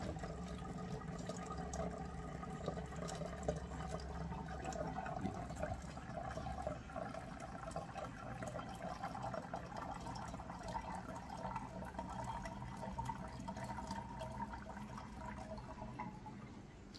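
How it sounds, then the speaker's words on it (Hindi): Water runs steadily down into a container during a science demonstration with a bottle, a continuous low, faint pouring and trickling wash that holds evenly throughout with no talk. "देखिए, इसमें लगातार पानी नीचे जाता हुआ दिखाई दे रहा है।"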